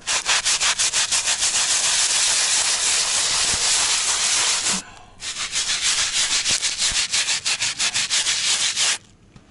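A carpet cleaning machine works over carpet, giving a loud steady rubbing hiss with rapid rhythmic scrubbing pulses that runs continuously, pauses briefly midway, then resumes and stops.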